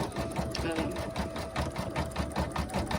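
An embroidery machine stitching a gnome design, a close, steady, rapid mechanical chatter of needle strokes running continuously, with a voice talking over it.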